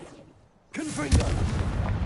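After a quiet moment, a Confringo blasting spell cast in Hogwarts Legacy goes off with a sudden loud gunshot-like crack, followed by a sustained crackling, booming burst.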